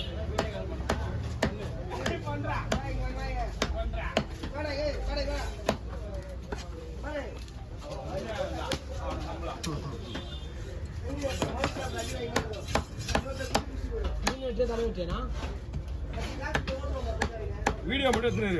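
A large queen trevally is chopped at a Kasimedu fish market, producing repeated sharp knife strikes at an uneven, brisk pace with quieter background chatter between the blows.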